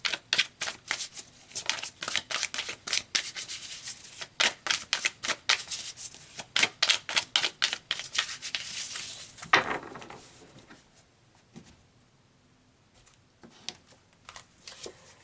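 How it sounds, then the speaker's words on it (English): Tarot cards are shuffled in rapid riffling bursts of crisp close flicks, then the shuffling slows, a single soft card sound follows, and the clip ends in near quiet. "So let's pull some more cards here."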